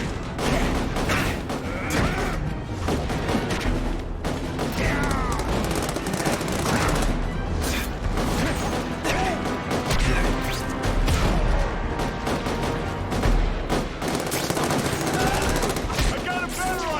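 Dense, continuous gunfire with armor-piercing bullets, rapid bursts and heavy impacts crashing together without pause, in The Amazing Spider-Man 2 video game, with shouting voices woven through the racket.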